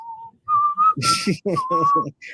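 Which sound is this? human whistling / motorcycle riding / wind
human whistling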